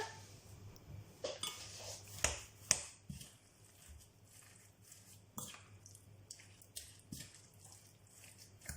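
Pork and prawn ball mixture being mixed by hand in a bowl, giving soft intermittent clicks and a few sharper knocks against the bowl, close and fairly quiet with no talking.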